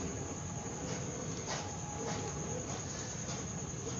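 A train rumbling past a railway level crossing with the barrier gates closed, heard from a queue of waiting traffic, a steady broad roar of wheels and cars holding at moderate loudness throughout.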